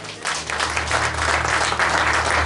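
A church congregation at a sermon breaks into steady, dense applause, many hands clapping loudly and continuously, with a faint voice briefly underneath.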